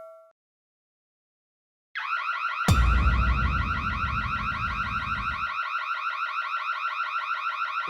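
Shop security alarm at a store exit sounding loud and continuous, a rapid pulsing electronic beeping that starts abruptly and keeps going, with a burst of low rumbling noise under it for a few seconds.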